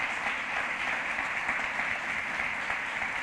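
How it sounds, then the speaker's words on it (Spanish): A church congregation applauds in steady, dense clapping that fills the room, a continuous wash of many hands held at an even level throughout. "Dele un fuerte aplauso al Señor entonces, si lo cree."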